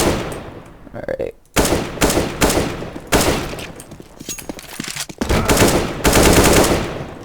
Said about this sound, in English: let's just practice with the AK here a little